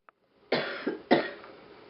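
Two harsh coughs, close and fairly loud, the second slightly stronger, with a faint click just before.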